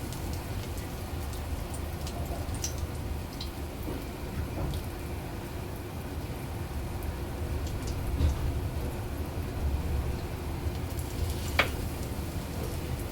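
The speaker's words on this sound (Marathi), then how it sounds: "आता ह्याला मी रव्याची कोटिंग लावून तव्यावर शॅलो फ्राय करून घेणार आहे" Semolina-coated bottle gourd and paneer cutlets shallow-fry on a tawa with a steady, rain-like crackle of oil and occasional sharper pops, continuous and moderately close.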